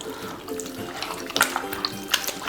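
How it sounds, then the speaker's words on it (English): Water splashes and trickles into a bowl of thinly sliced potato in a kitchen, a short pour with a few brighter splashes and drips near the end, close and fairly soft. "Into the bowl with a little bit of water."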